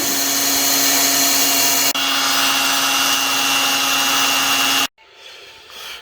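A power drill primes the oil pump of a twin-turbo 1960s gasser engine, whining steadily at high speed for several seconds, then cuts off, leaving a quieter, fading mechanical hum.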